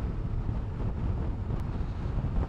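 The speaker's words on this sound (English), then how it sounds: "you're going to get a bit more wind buffeting, if you like, at those speeds" Wind buffeting a rider on a BMW S 1000 R motorcycle at dual carriageway speeds, a loud continuous low roar and rumble with no voice.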